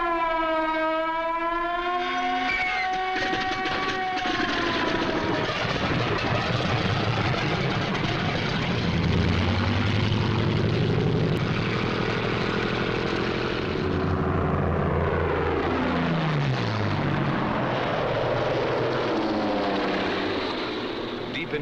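A formation of P-51 Mustang fighter planes drones overhead in a World War II setting, a sustained engine roar with shifting pitch as the aircraft pass, heavy and continuous.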